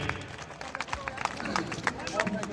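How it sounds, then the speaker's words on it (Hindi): Scattered clapping from an audience at a Holi-eve comedy poetry event, with broadband clap bursts spread through the clip under a murmur of crowd voices. "तब तक तालियां बजाते रहिए।"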